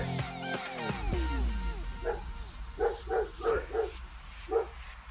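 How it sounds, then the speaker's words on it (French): A dog barks several times in a loose, uneven series at moderate distance, following a stretch of music or tonal sound at the start. "Désolé pour les aboiements du chien."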